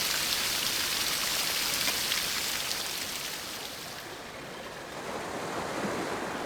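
Calm nature ambience from the IGT Paradise Garden slot game: a continuous, even wash of flowing water, like a gentle stream or surf, holding steady at moderate volume with no talking.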